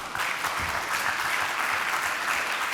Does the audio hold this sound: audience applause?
yes